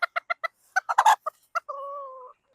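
A rooster on a small farm gives a run of sharp, evenly spaced clucks, a quick burst of louder calls, then a drawn-out steady tonal call, close and clear against silence.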